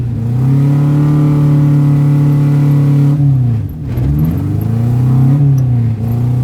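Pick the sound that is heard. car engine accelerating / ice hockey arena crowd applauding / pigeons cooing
car engine accelerating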